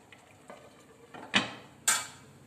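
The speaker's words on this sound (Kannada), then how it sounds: "ಇನ್ನೊಂದು ಚೆನ್ನಾಗಿ ಕಲಸಿ" A spoon stirs potato kurma in a cooking pan, giving a few soft scrapes and two sharper clinks against the metal over a quiet simmer.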